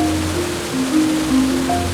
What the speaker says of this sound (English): Just like rapid speed of water at the Nile, ITANDA's water pushes through the rocks as it flows through